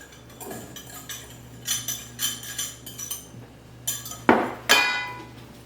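Granola bark ingredients with egg white combined in a bowl, heard as a run of clinking, tapping utensil strikes against the bowl, getting louder toward the end with two sharp knocks.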